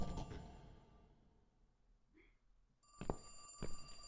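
A telephone rings in the horror video game The Cat Lady, with short bright tones over a quiet, eerie backdrop and two louder rings near the end.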